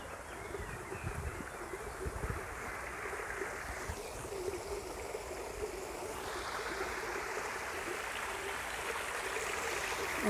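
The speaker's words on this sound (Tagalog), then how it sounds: "May maliit na sapa." A small stream in Oberlaa Kurpark babbles and rushes close by, a constant watery flow with faint rustling.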